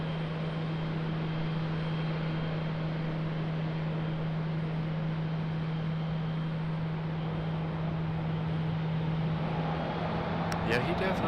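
A Frontier airliner lands at Raleigh-Durham International Airport, its engines and gentle reverse thrust making a steady, loud roar with a low drone that holds throughout, and a few faint clicks near the end.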